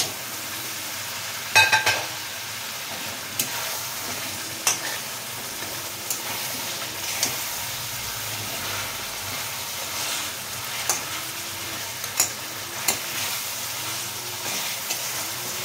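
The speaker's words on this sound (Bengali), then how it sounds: "মশলার সঙ্গে একটু ভাজা হয়ে যায়।" Fried catla fish heads cook with spices in a pan, a quiet steady sizzle broken by regular stirring scrapes and clinks every second or so, with no talking.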